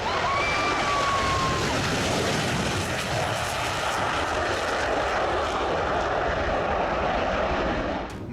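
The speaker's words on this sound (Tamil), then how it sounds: "MiG-21 jet" A MiG-21 fighter jet roars past in a loud, sustained, broadband blast of engine noise that holds steady for several seconds, with a brief high whine early on before the roar dominates.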